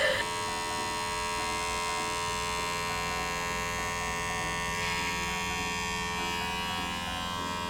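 Electric hair clipper buzzing steadily against a head while cutting an undercut, a close, continuous motor hum with a slight shift in tone midway, no talk.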